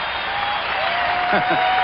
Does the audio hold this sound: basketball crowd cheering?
yes